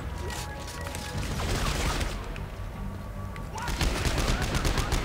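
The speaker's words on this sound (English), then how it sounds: "This is a little machine gun, yeah." Small machine gun firing in the co-op video game Dead Space 3, rapid bursts in two stretches with a brief lull between, loud and close amid busy game noise.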